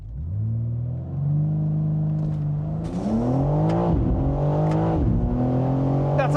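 A 2025 BMW M4 Convertible engine revs hard from a launch and climbs through gears, roaring loud and close with rising pitch and brief drops at each shift.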